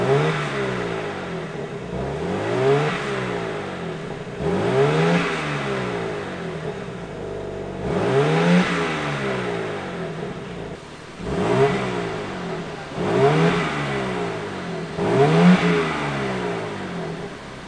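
A 2022 BMW G80 M3 with its exhaust valves open revs repeatedly, loud and close, about five rising throttle blips separated by short drops back toward idle, with no voices.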